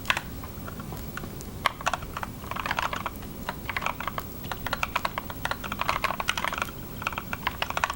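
Steady typing on a computer keyboard during a live coding session, a continuous run of fast, close clicks and key taps with short pauses, no talking.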